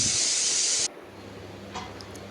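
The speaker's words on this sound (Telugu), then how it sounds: "ఇలా మూత పెట్టుకొని 2 విజిల్స్ వచ్చాక మనం స్టవ్ ఆఫ్ చేసుకోవాలండి." A pressure cooker used to make Telangana-style bagara rice gives a loud steady hiss of escaping steam that stops abruptly, followed by quieter kitchen background.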